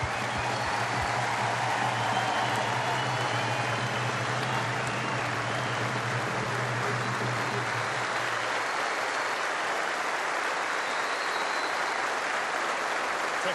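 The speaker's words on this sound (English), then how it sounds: "Please give him a huge round of applause, Jeff Burrow." Steady, dense applause from a large crowd at a rugby league stadium before a 2024 Super League match between Leeds and Leigh, broad and continuous for the whole stretch, with a low hum fading out partway through.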